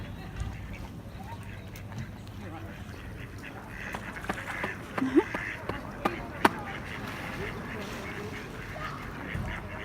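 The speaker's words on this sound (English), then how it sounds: "There's a baby duck over there trying pretending to be a man." Ducks give a few scattered, fairly faint quacks outdoors amid steady background noise, with people talking nearby.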